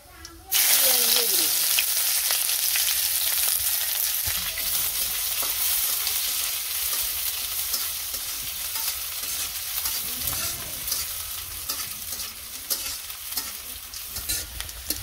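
Cumin seeds hit hot oil while meat fries in a village kitchen, giving a loud, continuous sizzle with frequent stirring scrapes and occasional soft voices underneath.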